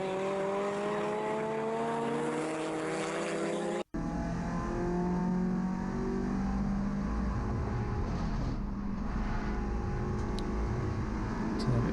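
An MG Cup race car's engine at Snetterton circuit revs out in fourth gear, a sustained, buzzy drone that briefly cuts out once before resuming at steady, high revs, heard close up from on board.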